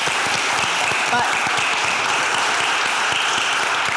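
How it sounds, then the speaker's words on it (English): Audience applause at a New York City conference session, steady dense clapping from a crowd filling the whole stretch, with a brief spoken word near the start. "That deserves a round of applause."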